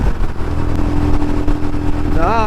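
Motorcycles ridden by a group of bikers passing by on the road, a loud continuous engine drone with some tonal whine near the end, heard under a voice talking.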